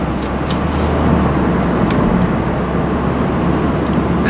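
A 2012 Mazda 3 cornering on the road, heard from inside as a loud, steady broadband rumble of road and engine noise with a few brief rattles, no voices.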